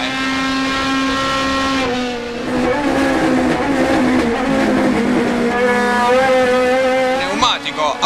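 Turismo Nacional Clase 3 race cars scream past with sustained high engine notes rising and falling through gear changes, loud and continuous, with a commentator talking over them.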